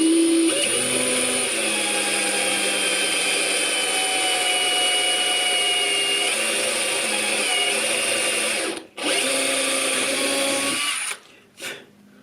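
A steady, high-pitched whine of a small power drill with a small bit drilling pin holes in a 1938 D18 guitar, running continuously, briefly cutting out twice near the end.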